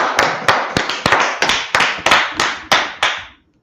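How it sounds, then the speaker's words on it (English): A class claps in slow unison, about ten sharp, loud claps evenly spaced and close by, with no talk over them, stopping after the last clap. "let's clap it up for the class"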